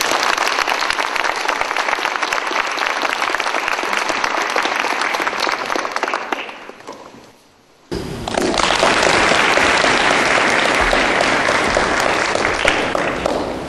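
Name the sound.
audience applause at a lecture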